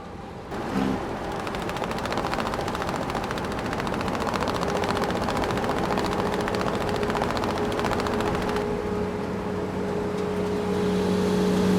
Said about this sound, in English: Off-road, dump truck.